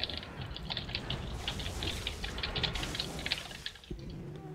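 Rapid clicking and tapping on a computer keyboard during a World of Warcraft session, a steady close patter of keystrokes running the whole time with no talk over it.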